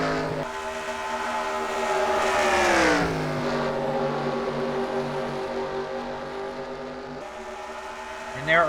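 Race cars circle an oval track at around 164 mph, with engines droning and rising in a long pass and pitch sweep, steady and loud, under a voice.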